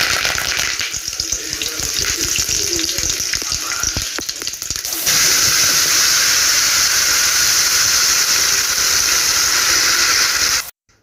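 Mustard seeds and curry leaves sizzling in hot oil while tempering a tomato side dish, a steady loud hiss that grows brighter and fuller halfway through and then cuts off abruptly.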